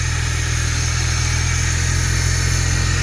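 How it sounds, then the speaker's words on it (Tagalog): A Suzuki DA52's F6A engine idles roughly with a misfire and an abnormally high idle, a loud steady drone with uneven pulsing heard up close and alone. "ang andar ng makina ay sobrang palyado at sobrang taas ng idling dito"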